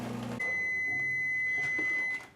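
Microwave oven running while cooking minute rice: a short low hum, then a steady high electronic tone ringing for nearly two seconds before stopping, heard close and alone.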